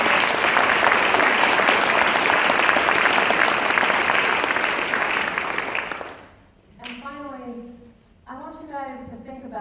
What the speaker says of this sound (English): let's hear a cheer for all of the supporters